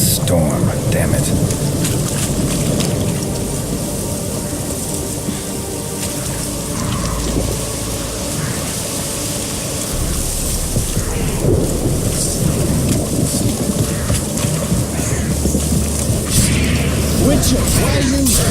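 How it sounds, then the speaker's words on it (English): A thunderstorm in The Witcher 3: steady heavy rain hissing throughout with low rolling thunder rumbles, loud and close, while game characters talk over it. "A storm, damn it."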